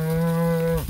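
A bull in a cold, ice-covered winter pasture lets out one loud, close, drawn-out moo that holds steady before breaking off abruptly, with no talk over it.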